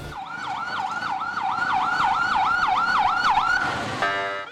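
Ambulance siren wailing in a steady rising-and-falling cycle in congested traffic at the emergency gate of Lady Reading Hospital in Khyber Pakhtunkhwa, loud and close, cutting to a faster yelp pattern at the end.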